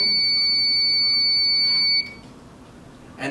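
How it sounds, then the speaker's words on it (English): A steady high-pitched electronic alarm tone from a stovetop sensor sounds continuously for about two seconds, then cuts off, leaving quiet room noise and a faint click at the end. "Trigger the beeping."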